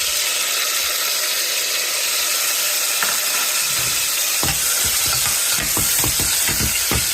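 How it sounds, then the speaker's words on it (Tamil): Pineapple pieces fry in ghee for kesari, a loud, close, continuous sizzle whose crackling pops and spits grow busier toward the end. "இதை அப்படியே நெய்யில் நல்லா ஃப்ரை பண்ணிக்கலாம்"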